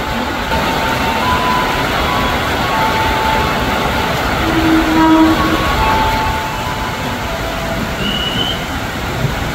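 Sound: commuter train arriving at station

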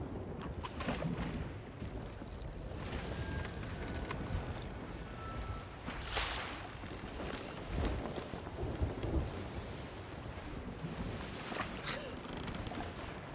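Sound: heavy rain and thunder filling ship in Sea of Thieves video game

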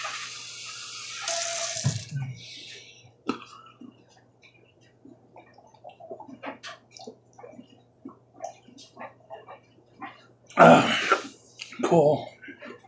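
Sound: tap water running to fill a drinking glass

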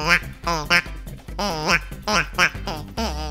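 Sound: duck call decoy being blown

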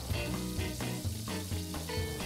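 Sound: squash and moringa omelette (torta) frying in a pan

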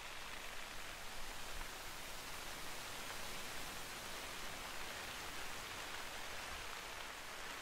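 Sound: rain in the video game The Hunter: Call of the Wild

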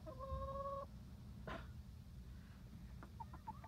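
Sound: chickens clucking

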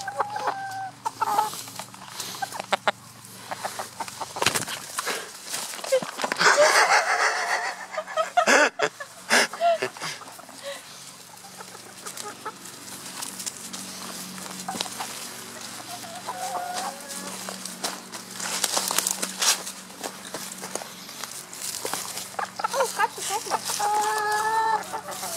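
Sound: chickens clucking

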